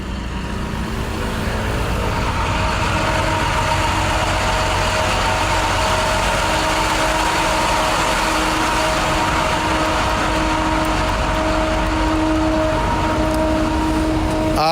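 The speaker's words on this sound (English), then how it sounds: "This is the gas company digging up the street." Heavy gas company machinery works on a Brooklyn street, a steady idling engine drone with a constant low rumble and a sustained mechanical hum running alone at fairly close range.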